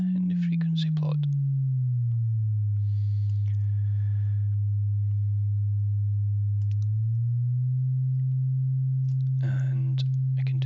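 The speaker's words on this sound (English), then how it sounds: "if we change the frequency of oscillator 1, you can see that the sine wave goes up and down in the frequency plot" A pure oscillator sine tone glides downward, holds steady, then steps back up in pitch, with a few faint clicks and brief murmurs around it.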